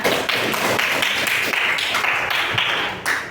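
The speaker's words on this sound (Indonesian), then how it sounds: "Tepuk tangan dulu untuk teman kita." Fourth-grade pupils at an Indonesian state elementary school give a classmate a dense, steady round of clapping, close and fairly loud, running unbroken for a few seconds before tailing off.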